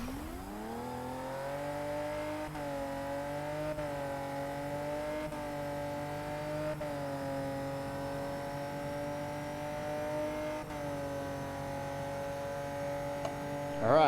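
A race car on a track runs at a steady engine drone through a long corner approach, with gear-change steps in the pitch before it brakes into the turn. The engine stays loud and close throughout, and no one talks.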